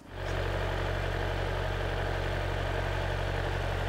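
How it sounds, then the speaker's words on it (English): A farm tractor's diesel engine runs steadily while towing a trailer, a loud continuous low rumble with harmonic drone that starts abruptly and holds at constant level throughout, with no talk. "We decided to move the trailer with the tractor and not the truck."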